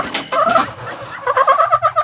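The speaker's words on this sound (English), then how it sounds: "Look at these crazy chickens." Small hybrid chickens clucking up close, loud rapid throaty calls with a brief pause, then a quick rising string of clucks.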